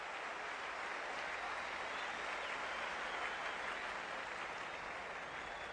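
A tennis crowd at the U.S. Open applauding, a steady, even wash of clapping at moderate distance that carries on without a break and stays fairly faint.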